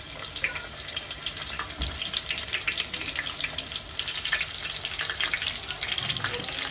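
Finely chopped onion goes into plenty of hot oil with bay leaf for a mutton curry, and a steady crackling sizzle follows with a few sharp pops. The frying is loud and continuous throughout, with no talking.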